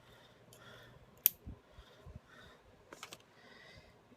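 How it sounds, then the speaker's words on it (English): The sharp point of a pair of scissors pokes a hole through card for a spinner card craft, giving one crisp click followed by soft rustling handling noises, quiet and close, with no talking. "I'm just using the sharp end of my scissors"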